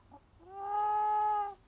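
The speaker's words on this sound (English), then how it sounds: "That's the sound of a chicken that's not breathing well." A Coronation Sussex rooster gives a single sustained, strained vocalisation of about a second, heard up close against a quiet background, from a bird that is not breathing well.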